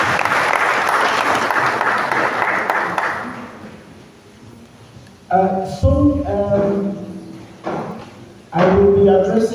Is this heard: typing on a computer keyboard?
no